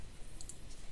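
A plus key on a computer's number keypad is pressed, giving a faint, brief click or two against quiet room background.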